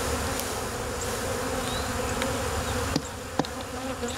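Beetles give off a steady, dense insect buzz that runs close and unbroken, with a couple of faint clicks near the end.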